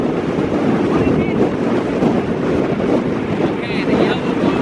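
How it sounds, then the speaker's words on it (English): Strong, steady wind buffets the microphone outdoors beside a farm tractor, a dense broadband roar that never lets up, with a brief voice showing faintly near the end. "at least there's a 200-mile-an-hour wind"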